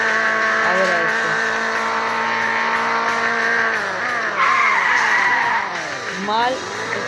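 Car tires squeal in a sustained drift while the engine revs and its pitch sweeps up and down, loud and close, with a voice speaking over it.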